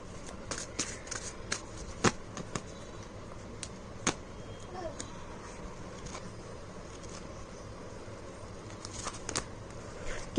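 Tarot cards being shuffled for a reading, a steady dry riffling and papery patter lasting throughout, with sharper slaps and flicks scattered at intervals, close and fairly quiet, with no talking.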